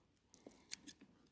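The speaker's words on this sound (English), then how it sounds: "I'm just gonna take the scissors and chop them off in the middle." Scissors snip through 10-centimetre plant shoots while a winter garden is prepared, giving a few faint, quiet clicks and cuts spaced irregularly over a near-silent background.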